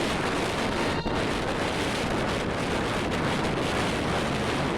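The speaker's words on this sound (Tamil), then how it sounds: "எல்லாம் எப்படி அடிக்குதோ காற்று அலையும் பயங்கரமாக அடிக்குது." Strong wind and sea waves at Dhanushkodi make a continuous, loud roar of surf mixed with heavy wind buffeting on the microphone, with no voices.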